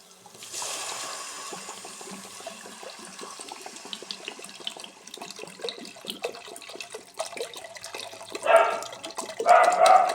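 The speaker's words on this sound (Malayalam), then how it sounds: "ഇനി ഇതിലേക്ക് വെള്ളം ഒഴിച്ചു കൊടുക്കാം." Water poured into a pan of sautéed upma base trickles and splashes lightly, then gushes louder and closer in short bursts near the end.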